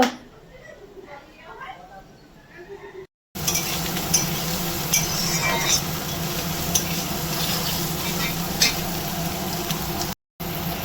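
Beans and carrots fry in a kadai for fried rice, giving a loud, constant sizzle with scraping stir strokes after a quieter start, and a brief pause near the end.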